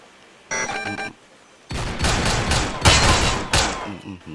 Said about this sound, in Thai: ยิงไม่ยั้งเลย